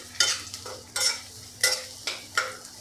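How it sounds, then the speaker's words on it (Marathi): Golden-fried onion in a pan with turmeric powder added, stirred in about five evenly spaced scraping strokes, each with a brief sizzle over a low steady hum, close and fairly loud, no voices. "इथे कांदा सोनेरी रंगावर परतून झालेला आहे"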